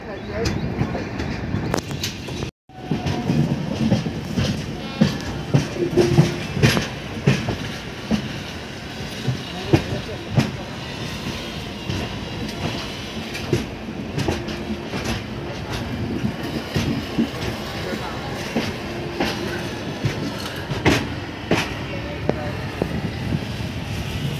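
Passenger coaches of the 12837 Puri Express from Howrah to Puri rumble steadily along the rails, with rhythmic wheel clacks over joints and a brief dip before the loud, continuous interior roar resumes.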